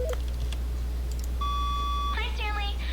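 A single electronic phone message beep in the video game The Stanley Parable: a steady tone held for under a second, followed by a short warbling electronic chirp. It sounds over a quiet background hum.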